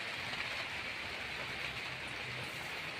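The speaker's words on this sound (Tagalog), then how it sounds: "grabe ang ulan" Heavy rain pours continuously in Saudi Arabia, a broad steady wash of drops striking surfaces nearby, with no talking.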